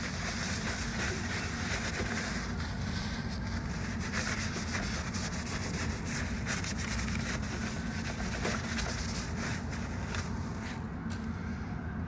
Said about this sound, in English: now we're going to clean all this muck off with our degreaser.